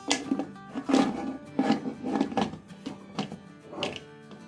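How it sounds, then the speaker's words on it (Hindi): Several dull thunks and knocks with scraping and rubbing between them, close by and fairly quiet, as a lid is fitted onto a pressure cooker. "चलिए अब इसकी हम ये लिड लगा देते हैं।"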